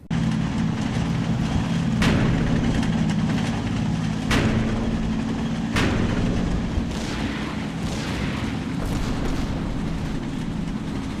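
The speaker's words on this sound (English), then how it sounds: "We're bombarding from the top of the hill." Artillery shells pound from a hilltop in Combat Mission Final Blitzkrieg, a WWII strategy game: three or four sharp, loud booms spaced a couple of seconds apart over a constant low rumble.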